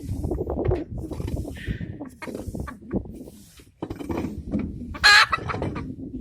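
Hens in a chicken coop cluck and murmur up close in irregular bursts, with one sharp, louder squawk near the end and soft rustling between calls.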